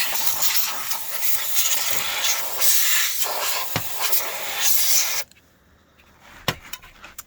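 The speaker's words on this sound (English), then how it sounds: "And we're just going to use canned air and spray." A loud, sustained hiss of canned air spraying dust from the fans of an HP Compaq 6300 PC in long bursts, stopping abruptly, followed by a few faint clicks and near silence.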